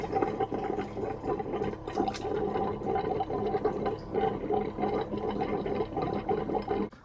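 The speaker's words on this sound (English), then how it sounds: "Let's do the toilet. All right, we got some water coming out of there." An RV toilet flushes during winterizing, sending a steady rushing, gurgling stream of water through the bowl for several seconds, close and moderately loud with no talking.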